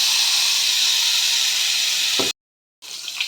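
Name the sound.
mustard and poppy seed paste added to hot oil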